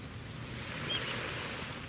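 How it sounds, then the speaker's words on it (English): Ocean waves washing onto a beach at sunrise, a steady broadband surf rush, fairly soft and continuous with a slight swell in the middle. "soak in one last minute of this gorgeous soundtrack of waves"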